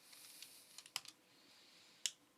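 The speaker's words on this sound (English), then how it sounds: "when they can hear my keyboard clicking because I have a mechanical keyboard" Fast typing on a mechanical keyboard, with quick, faint key clicks and a couple of sharper, louder keystrokes against a low background hiss.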